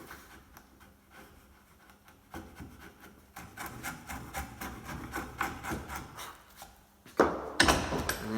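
A sharp chisel pares timber in repeated short scraping, shaving strokes, starting sparse and growing denser and louder, close up with no speech.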